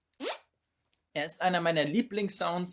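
A beatboxer's mouth imitates a zipper with one short rising zip, followed by someone talking in German.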